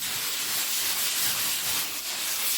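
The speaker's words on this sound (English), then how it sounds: "mainly my sanding block. That's what I'm getting ready to use." A sanding block rubs over a first coat of patch compound on a wall hole, a steady close-up hissing scrape running without pause and without speech.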